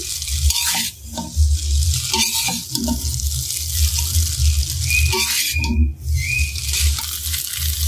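Noodles frying and being tossed in a hot pan with vegetables and egg, loud continuous sizzling broken by repeated scraping stir strokes and occasional brief clanks, close and without talk.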